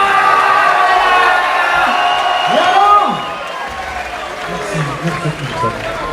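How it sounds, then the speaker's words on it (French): A live concert crowd applauds and cheers loudly, a dense wash of clapping with voices rising over it, easing slightly after a few seconds while shouts and whoops continue. "On applaudit très fort."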